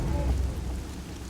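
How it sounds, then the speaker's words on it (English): Torrential rain in the video game Horizon Zero Dawn, a steady dense wash of downpour with low rumbling weight, heard alone at moderate level across the short moment. "Notice that every time I try to sniper stuff, it starts raining torrentially."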